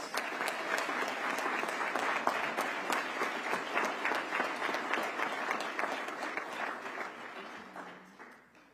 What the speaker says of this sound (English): Give Officer Marcus Thompson a round of applause.